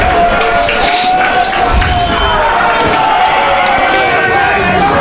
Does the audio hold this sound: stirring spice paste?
no